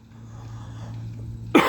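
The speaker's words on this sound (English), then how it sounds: "Allergy cough." A person gives a single sharp allergy cough close to the microphone at the very end, after a stretch of quiet outdoor hum.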